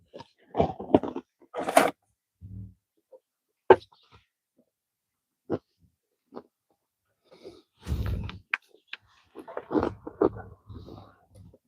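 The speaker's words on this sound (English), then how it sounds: "Apologies for the chewing sounds." Cornflake clusters being chewed close to the mouth outdoors on a hill in North Wales, heard as scattered crunchy bursts with short pauses between bites and no talking.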